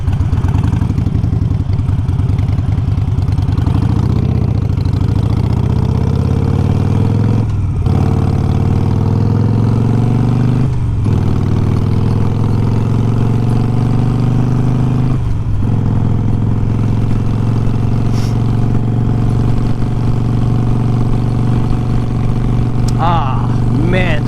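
A Harley-Davidson Iron 883 motorcycle engine runs at a steady low throb while riding along back roads, a constant close drone with slight pitch swells and a few brief dips, under ongoing wind noise and a rider talking.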